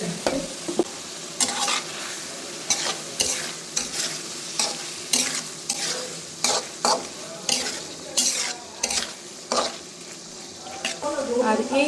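Mola fish goes into sizzling spice paste and is stirred in a pot: a steady frying hiss broken by repeated sharp scraping stir strokes, close and fairly loud, with no talk.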